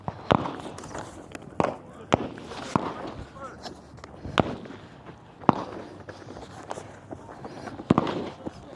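Rifle shots on a shooting range firing lane during a women's elite competition stage, sharp isolated cracks spaced irregularly about one to two seconds apart over background movement and crowd noise, with people speaking.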